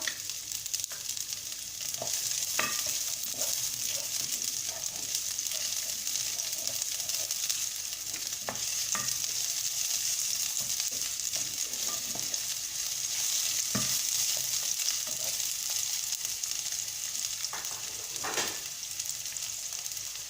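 Onion sizzles in a pot while being stirred, a steady close frying hiss punctuated by regular spoon scrapes and knocks against the pot, with no voices.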